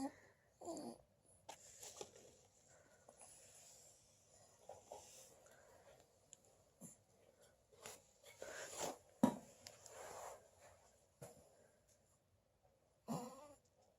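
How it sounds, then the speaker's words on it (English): A sleeping baby snores softly, with faint, wheezy breaths and little snorts that come and go at an uneven pace in a quiet room. "Baby's already snoring."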